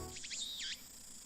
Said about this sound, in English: where the cries of cicadas resound